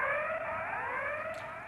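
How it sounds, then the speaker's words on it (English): A recorded nuclear criticality alarm from the Sellafield site, played over a safety-alarm telephone line: a steady, loud electronic tone with layered wavering pitches, sounding alone without pauses. "the criticality alarm sound is whoop, whoop, whoop"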